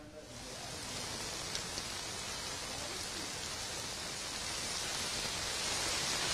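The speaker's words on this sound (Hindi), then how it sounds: "क्योंकि बहुत ज्यादा तेज बारिश है" Heavy rain pours onto a street in Jaipur with traffic jammed nearby, a dense, continuous hiss that swells slightly and stays loud throughout, with no talking heard.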